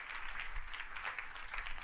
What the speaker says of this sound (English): Clap hands for them.